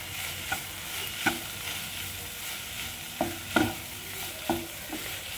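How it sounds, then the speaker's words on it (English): Cabbage roll filling of vegetables and paneer, Indian style, stirred in a sizzling pan, with a steady fry hiss broken by several sharp scraping spoon strokes that grow more frequent toward the end. "Now I am going to mix it."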